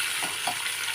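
Green chillies fry in a pan of oil with onions for sambar, giving a steady close hiss and sizzle with soft bubbling pops throughout.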